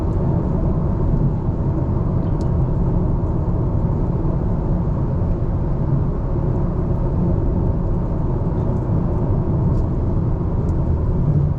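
A 2024 Hyundai Sonata Hybrid cruises at highway speed, heard from inside as a steady, loud low road rumble and muted drone that stays constant throughout, with no talking.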